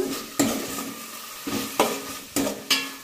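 Tomatoes softening in a pan for rasam: a soft background sizzle with several sharp spoon-against-pan stirring knocks at irregular intervals, close up and with no talk.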